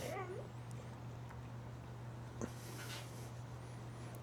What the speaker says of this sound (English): That's my dog you hear outside